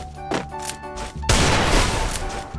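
Gunfire in the Free Fire battle royale video game, heard as a dense, loud burst of rapid shots and blasts that starts suddenly midway through, after a quieter stretch of game sound.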